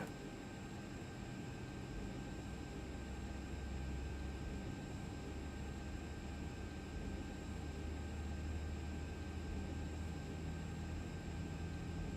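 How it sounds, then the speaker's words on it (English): A simulated airliner's number 2 engine spooling up during start in Flight Simulator X, a steady broadband roar with low rumble and faint tonal whine that holds evenly throughout, with no voices. "So starting engine number 2 first."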